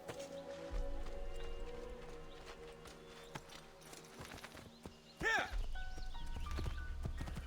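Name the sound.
horse in Assassin's Creed II video game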